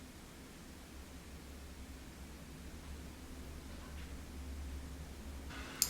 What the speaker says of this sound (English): my mom is blow drying her hair